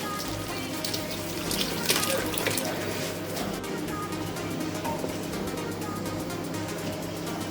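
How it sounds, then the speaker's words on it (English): Steady pouring of chicken stock into a boiling pot for jollof rice, a continuous watery rush and splash with bubbling underneath, fairly close and even throughout. "so I add the stock or the broth from the chicken"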